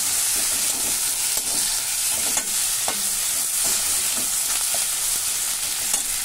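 Potatoes fry in a pan with cashews, raisins and ginger-garlic paste, giving a steady close sizzle broken by repeated scraping clatters of a spoon stirring them.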